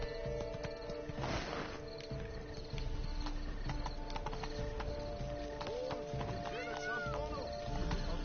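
Horse hooves in The Witcher 3 game, rhythmic clip-clop of a galloping mount across a large garden, steady under game music and ambient tones, with faint background voices.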